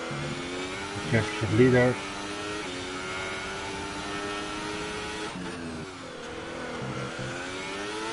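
F1 race car engine on a hot lap in the F1 2018 video game, a steady high-pitched whine with a brief louder rev swell, running under continuous commentary throughout.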